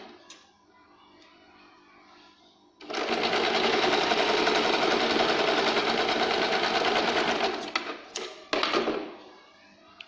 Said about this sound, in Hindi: तो हम कच्ची सिलाई मारेंगे अभी